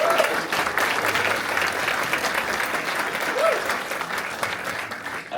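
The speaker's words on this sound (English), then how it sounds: "Clap for these guys." A film festival audience in a theater applauds, with steady, full clapping throughout and faint voices and cheers mixed into the crowd noise.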